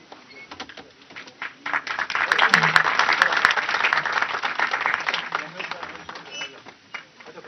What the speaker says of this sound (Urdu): جب یہ شمع روشن کر کے اس محفل کا باضابطہ طور پر آغاز کیا جائے تب آپ سب تالیوں سے استقبال کریں